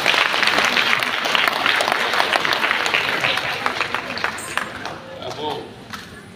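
An audience clapping at a Congress ex-MLA's speech in Jatni, loud sustained applause from a crowd that tapers off toward the end, where scattered claps and voices remain.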